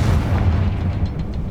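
A fire spell explodes in Hogwarts Legacy as one loud, deep, rumbling boom that fills the whole short moment up close.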